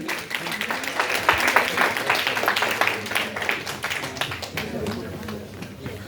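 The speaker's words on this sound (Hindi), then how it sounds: "उनके लिए भी एक बार जोरदार ताली।" An audience applauds quiz competition contestants at a World Braille Day event, a steady patter of clapping from a crowd lasting several seconds with a voice over it.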